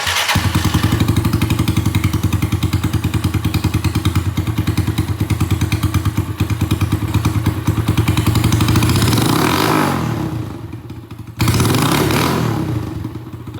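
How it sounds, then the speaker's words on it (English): Straight-piped RSP Condor 150cc engine idles cold with a fast, loud, even thumping putter for about nine seconds, then revs with a brief rasp, dips, and picks back up. "I have to cold rev it straight piped, which is already pretty much straight piped"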